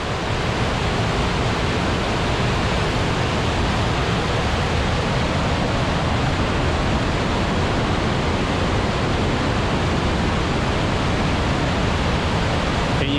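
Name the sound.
roaring river water rushing over rocks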